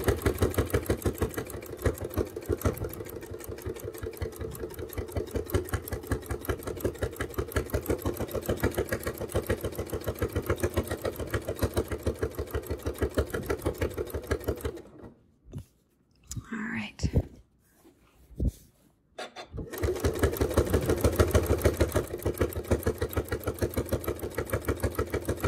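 A sewing machine stitches binding onto a quilt, running steadily and fairly close with a dense rapid needle rhythm, then stopping for about five seconds near the middle while the fabric is handled before stitching resumes.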